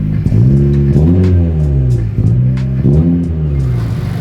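A 10th-generation Honda Civic engine with a bolt-on turbo upgrade runs loudly and close by, its low hum rising and falling in repeated revs with a steady rumble underneath.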